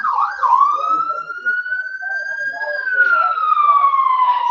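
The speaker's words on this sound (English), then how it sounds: "going to be some sirens coming here in a second" A police siren wails steadily as it passes outside, one long rising and falling tone that swells louder toward the end, with faint background noise beneath it.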